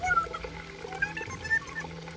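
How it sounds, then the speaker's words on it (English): Water flows steadily from a pump at a remote spot with no electricity, a soft continuous trickle and pour running close by with faint fluctuations throughout. "How is that thing still pumping water?"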